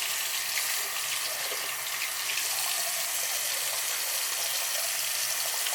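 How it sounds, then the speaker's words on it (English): Running tap water pours steadily over a freshly metal-plated part being rinsed at a sink, a continuous close hiss of flowing water with no talk. "So alright, so I'm going to rinse it off here."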